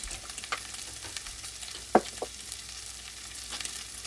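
Celery and carrots going into a pan of softened onions and frying, a soft steady sizzle with a few sharp clinks and scrapes of stirring, close and moderate in level, without talk.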